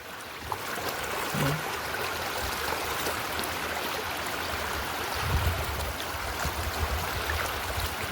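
Unseasonal rainwater pours from an opened valve into a crop field as a steady, rushing flow of moderate loudness with no pauses.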